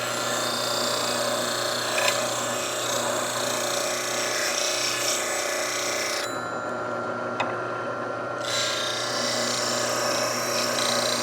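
A skew chisel bevel is held against a spinning bench grinder, giving a steady whirring hum with a continuous gritty hiss of steel on the wheel. It briefly quietens partway through, then resumes.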